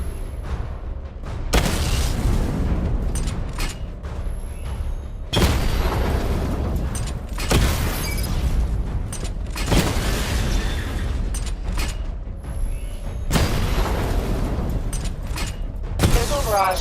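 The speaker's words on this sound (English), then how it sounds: "Charge the missile barrage to level 2 to destroy up to 4 targets at once" Missile barrage explosions in the video game Batman Arkham Knight: heavy booming blasts strike in a repeated rhythm about every two seconds, each with a rumbling tail, over continuous background game noise.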